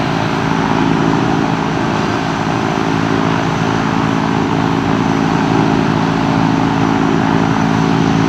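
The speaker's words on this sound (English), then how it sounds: "I like this DC-3. I like flying that guy." A Douglas DC-3 propeller airliner's piston engines drone steadily and loudly throughout, a constant heavy rumble heard from inside the aircraft.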